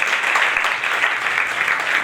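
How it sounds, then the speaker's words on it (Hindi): Audience applause at a church first-anniversary gathering in Karachi, Pakistan, welcoming a speaker to the stage; steady, dense clapping fills the whole stretch without pause, loud and close. "आप सबकी भरपूर तालियों में दावत दूंगी"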